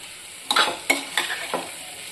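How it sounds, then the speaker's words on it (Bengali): Small pieces of tomato sauté in a pan for a chicken sausage curry, four distinct stirring scrapes rising over a constant sizzle, close and fairly loud. "একটা বড় সাইজের টমেটোকে আমি ছোট ছোট টুকরো করে এর মধ্যে দিয়ে কষিয়ে নেব।"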